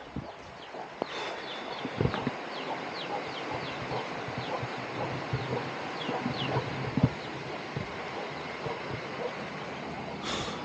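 Chickens on a village farm, gathering in as rain begins, with a few scattered clucks and faint bird chirps over steady rain-like background noise, a couple of louder knocks standing out.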